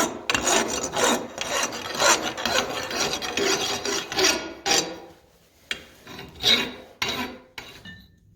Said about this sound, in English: I can file down the top to get a smooth, clean surface and nice, sharp edges.